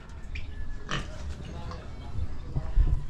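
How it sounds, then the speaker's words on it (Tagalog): Large pigs on a farm grunt and oink in several short bursts over a low background rumble, with someone talking intermittently nearby. "Ang ating baboy malalaki na rin, no?"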